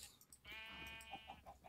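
Sheep in the Minecraft video game bleat in one clear, sustained, wavering cry, followed by a few shorter soft blips of game sound.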